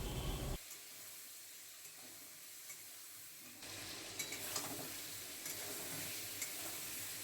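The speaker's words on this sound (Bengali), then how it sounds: "আদা রসুন বাটা আর টমেটো আর পেঁয়াজ বাটা দিয়ে ভালো করে কষিয়ে নেওয়া হবে" Potatoes are sautéed in a pan with ginger-garlic, tomato and onion paste, giving a steady sizzle with occasional stirring scrapes. The frying grows louder and busier partway through and stays close-miked.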